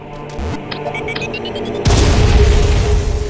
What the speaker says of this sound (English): laying a power bomb grants us access to the power bomb